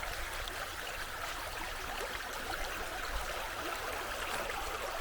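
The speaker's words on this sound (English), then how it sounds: "the River Teem carries on down through the valley here" A stream, the River Teign, flows through a wooded Dartmoor valley, giving a steady, continuous rushing and trickling water sound with no talk.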